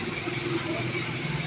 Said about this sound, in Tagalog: Maraming sasakyan dito guys.